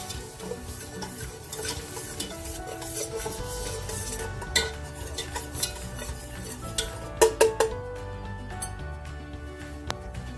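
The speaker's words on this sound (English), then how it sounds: "And to this I'm going to add milk that I've warmed and continue stirring it" A spoon stirring warmed milk into a flour roux in a pot for macaroni and cheese, steady soft scraping and swishing with a few sharper clinks against the pan, close and fairly quiet.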